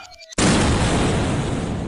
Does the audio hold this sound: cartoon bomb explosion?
yes